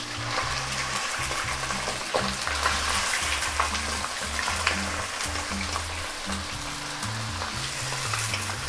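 Plain chicken fries in hot oil with a continuous, close sizzle and bubbling crackle that stays steady throughout.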